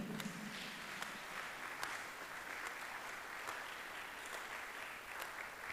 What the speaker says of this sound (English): Clap before I continue.